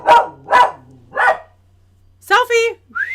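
A puppy barks three times in quick succession, loud and close, followed by a person speaking excitedly, with a low electrical hum underneath.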